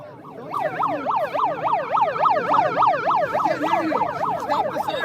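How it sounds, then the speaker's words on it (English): A police siren wails in a fast, rapid yelp pattern, loud and close, cycling continuously without pause. "Stop the sirens."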